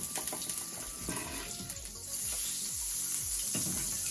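An ounce of butter sizzling in a hot-ish pan: a steady, fairly loud hiss and crackle that holds throughout, with low rumbling underneath and no voices.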